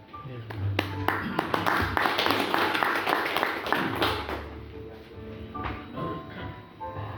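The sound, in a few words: audience applause for the speakers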